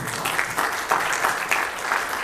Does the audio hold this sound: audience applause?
yes